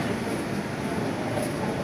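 A continuous low rumble of a Dhaka metro train running along the track in Bangladesh, steady and enveloping, with no voices.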